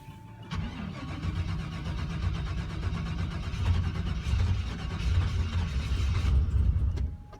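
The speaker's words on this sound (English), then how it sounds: "Coldest startup attempt so far." A turbocharged Chevrolet Colorado cold-starts in freezing, snowy weather at 23 degrees, a sharp crank catching into a loud, rough, uneven idle up close that keeps rumbling steadily to the end.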